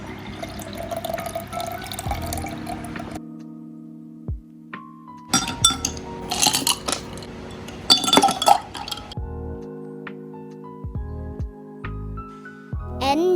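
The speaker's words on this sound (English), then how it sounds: "Pour the milk and then the ice cubes." Milk poured into a glass followed by ice cubes, with sharp clinks and rattles of ice against glass amid splashing liquid, close and fairly loud with pauses between bursts.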